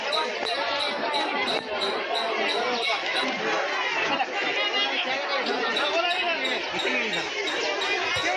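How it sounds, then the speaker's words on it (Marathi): Busy weekly village market in rural Maharashtra, filled with dense crowd chatter and overlapping voices of many people, steady and close throughout, with light rhythmic clicks running across the top. "खूप गर्दी आहे बाजारामध्ये."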